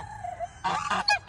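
A farm goose honks loudly near a nest in a cluster of trees, first a soft drawn-out call, then a rapid series of harsh, nasal honks close by with no talking.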